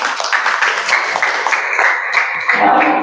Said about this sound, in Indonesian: Beri tepuk tangan untuk Rian.